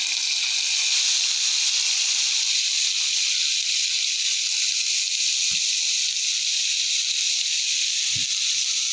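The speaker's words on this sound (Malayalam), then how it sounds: "ഇനി അതിലേക്ക് നമുക്ക് അരിഞ്ഞു വെച്ച തട്ട ഇട്ട് കൊടുക്കാം" Chopped banana stem hits hot coconut oil with popped mustard seeds in a pan, giving a loud, continuous sizzling hiss that stays steady throughout, with a couple of faint low knocks.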